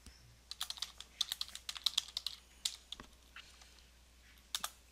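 Typing on a computer keyboard while entering a username and password at a login page: a quick, uneven run of light key clicks in short bursts, close and fairly quiet, with no talking.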